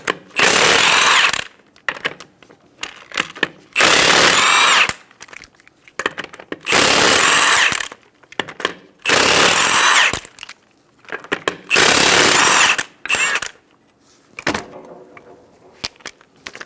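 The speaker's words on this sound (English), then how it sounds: "remove the 5 lug nuts." Bursts of an impact power tool with a 19mm socket spinning off the lug nuts on a rear wheel of a 2010-2014 Subaru Outback: five loud, close rattling runs of about two seconds each, separated by brief pauses and small metallic clinks.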